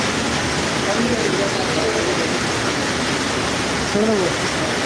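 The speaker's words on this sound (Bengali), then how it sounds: "প্রচুর বৃষ্টি তো প্রচুর বৃষ্টি" Heavy rain pours down as a dense, even hiss, with voices talking faintly in the background.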